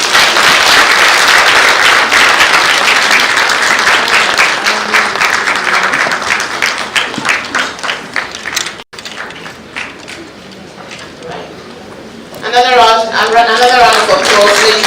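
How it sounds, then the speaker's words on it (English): An audience at an International Women's Day celebration in the banquet hall of Jubilee House gives loud, dense applause that slowly thins into scattered claps. A speaker's voice then takes over near the end. "Another round of applause, ladies and gentlemen"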